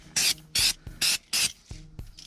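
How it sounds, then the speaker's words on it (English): Brake cleaner hisses from an aerosol can onto a reassembled brake caliper in four loud, close bursts of about a quarter second each, then two softer, shorter puffs. "just give it a"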